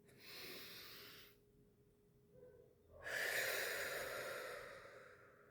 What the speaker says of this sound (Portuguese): Agora a terceira dica é praticar a respiração profunda.